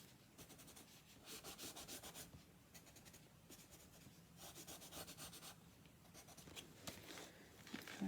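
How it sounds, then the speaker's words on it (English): A black watercolour pencil scribbles on paper in quick repeated strokes, a faint close-up rhythmic scratching and rubbing that comes in bursts over several seconds. "I'm just going to scribble around it"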